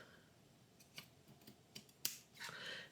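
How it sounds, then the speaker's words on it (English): Scissors snip paper pieces for a rose-themed journal, a handful of quiet, crisp cuts spaced irregularly, ending with a longer slicing swish, close and faint. "I'm going to cut this piece right here off."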